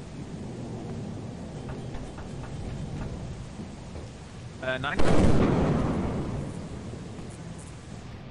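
A lightning strike with thunder in the video game Lethal Company lands as a sudden loud crack and then a rolling rumble that fades over a few seconds, with steady rain noise under it and a voice speaking.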